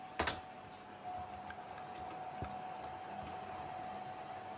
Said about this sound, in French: je ne sais pas si vous avez entendu en même temps sur la caméra, le ventilo il tourne